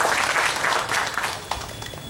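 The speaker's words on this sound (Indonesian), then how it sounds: "Aplaus dong buat Mas Fahmi." An audience at a book discussion event applauds a speaker with dense, steady clapping that fills the room at close range for the whole stretch.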